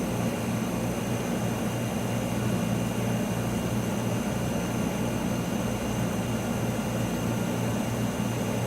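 A Plasma Equipment Tech 800 II plasma etcher running after a gas valve is opened, a constant loud mechanical roar with a steady low hum, unchanging throughout.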